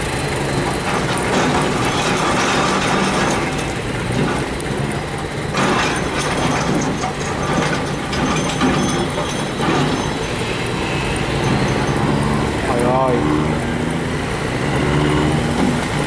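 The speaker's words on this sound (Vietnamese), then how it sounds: "Trời, cái máy này chạy dữ quá." A barge engine at a stone wharf roars loudly and steadily throughout, a dense continuous rumble with rattling and clattering mixed in.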